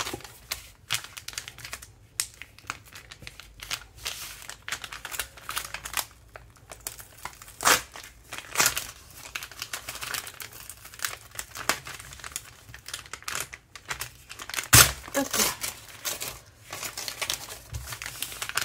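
Crisp crinkling and rustling of thin paper being unwrapped from the number 15 package of a friendship calendar, close and irregular, with quick crackling bursts and short pauses, no talking.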